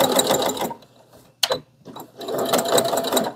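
A sewing machine stitches a large tote bag with reduced presser foot pressure, running in two fast, steady whirring bursts separated by a brief pause with a single clack.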